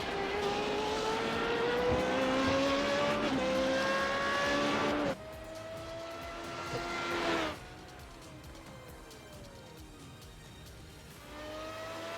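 Formula 3.5 race car engines in iRacing at the Nürburgring GP rev and climb through the gears with rising whines, loud and continuous, then drop away as the pitch shifts; no talking.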